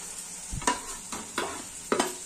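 Ground masala paste hits hot oil and fries for a soybean vadi bhaji, a soft sizzle broken by three or four distinct stirring scrapes and clacks of a spoon against the pan, with no one talking.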